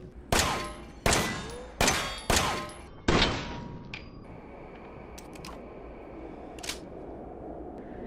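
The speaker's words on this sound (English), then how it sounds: "the firing sound does not change between the handguns, it seems" A G17 handgun in Resident Evil 7 fires five loud, sharp shots at a steady pace, each ringing briefly, followed by quieter room ambience with a few faint metallic dings.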